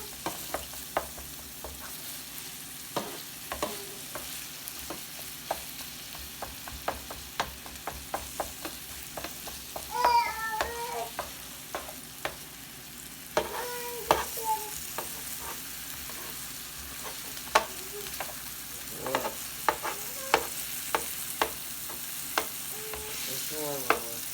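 Philly steak and onions frying in their own grease in a pan, a soft constant sizzle broken by frequent sharp clicks and scrapes of a utensil stirring and breaking up the meat, with no voices.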